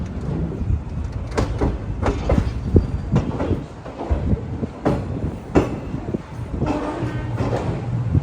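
The Okha–Bhavnagar Express pulls into a platform at Rajkot station, its wheels and coaches giving repeated clacks and thumps over a rumbling, fairly loud, continuous base, with no talking.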